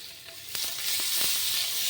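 Eggs sizzle in hot oil on a tawa, dusted with Kashmiri chilli and being flipped: a steady, close, bright crackling fry that swells a little louder partway through, with faint stirring clicks.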